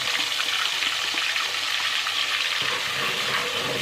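A ground paste of ginger, garlic, green chili and onion fries in a pan, a bright, continuous hiss and crackle heard close up, with faint stirring scrapes and no talk.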